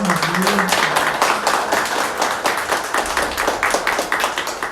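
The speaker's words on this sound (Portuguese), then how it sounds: "Podem também bater palmas" A church congregation claps hands together, a dense, steady patter of many palms at close range that continues throughout, with a faint voice briefly audible early on.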